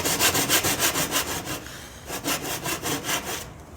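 A hand saw cuts wood for a cross lap joint in quick, even back-and-forth strokes, a close rhythmic rasp with a brief pause partway through before the strokes resume.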